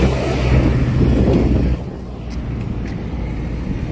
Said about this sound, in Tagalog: Oops, medyo malakas yung hangin eh.